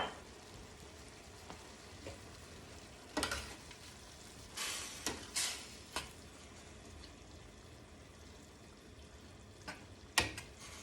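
Wine poured into a hot pan of seared wahoo and yellowtail tuna: quiet, steady sizzling broken by a few louder hissing bursts as the liquid hits the pan.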